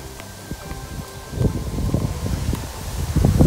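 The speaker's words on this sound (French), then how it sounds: "j'espère qu'il n'y a pas trop de vent" Gusty wind blowing through a vegetable garden in May, rustling foliage and buffeting the microphone, building in strength toward the end, with no speech.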